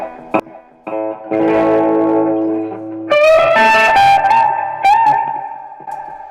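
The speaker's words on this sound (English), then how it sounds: "Now you can also get some distortion out of the amp itself with the gain." Electric guitar distorted by the gain control of a Vox MV50 amp: a few clipped stabs, then held, crunchy chords and sustained lead notes with noticeable reverb, loud and unaccompanied.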